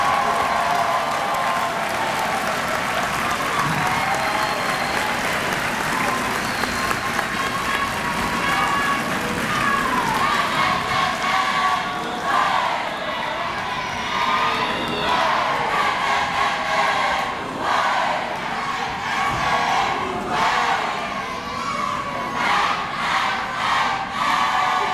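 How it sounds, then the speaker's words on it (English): At a winter university commencement ceremony, a large audience applauds and cheers the graduates in a long, dense wash of clapping. Whoops and shouts rise within it, and the applause thins toward the end. "Let us once again now stand and applaud our graduates"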